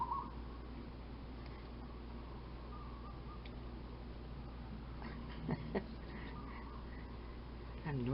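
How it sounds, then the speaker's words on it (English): Faint bird calls outdoors, a few soft chirps and hoot-like notes scattered over a quiet, steady background hum. "you may be able to hear the birds"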